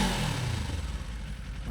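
A Kawasaki Ninja 500 fitted with a Yoshimura exhaust revs with a deep, throbbing engine note, close and steady over a short burst with no talking.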